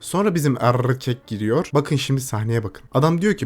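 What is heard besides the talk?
None of the usual background noises is heard.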